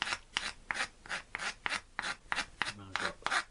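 A hand chisel shaving wood while a Sorrento inlaid box is restored, the workpiece braced against a knee; about ten short, evenly spaced scraping strokes, close and fairly quiet, with no talk.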